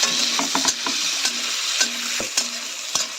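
Onions frying in a pan with tomatoes added for a potato and patol curry, a continuous sizzle broken by repeated sharp clinks and scrapes of a spoon stirring against the pan.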